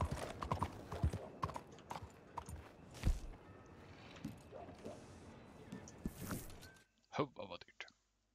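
Horse hooves clip-clop in Red Dead Redemption 2, a rhythmic series of close, sharp hoof strikes on the ground with a snort or two, under intermittent talk before a short pause.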